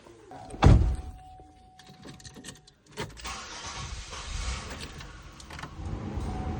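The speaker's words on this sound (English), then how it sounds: "So start the car, maximum AC" A car starts with a loud thunk and a short engine crank, then settles into an idle with the air conditioning blower turned to maximum, a steady whooshing hum that carries on to the end.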